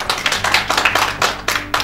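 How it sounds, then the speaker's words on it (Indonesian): A seminar audience breaking into a short burst of brisk, close hand clapping that continues unevenly for a couple of seconds. "Berikan tepuk tangan dong."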